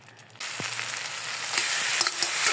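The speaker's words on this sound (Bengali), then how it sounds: "আলুগুলো ভালো করে কষাতে হবে।" Potatoes being sautéed in a pan for a Bengali prawn, new potato and tomato dish: a sizzle jumps in abruptly and carries on as steady, close crackling frying with light stirring scrapes, no talk.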